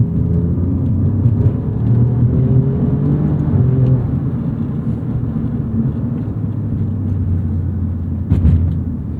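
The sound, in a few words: 2018 Alfa Romeo Giulia Quadrifoglio engine accelerating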